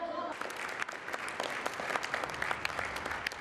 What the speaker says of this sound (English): The audience applauds